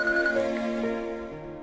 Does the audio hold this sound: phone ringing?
yes